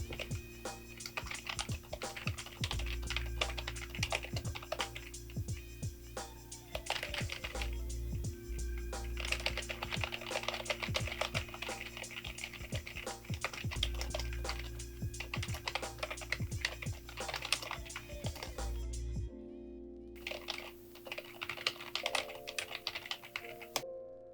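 A screenplay being typed on a computer keyboard: quiet, continuous bursts of fast key clicks with brief pauses, the rhythm irregular and ongoing for the whole stretch, with a faint background hum.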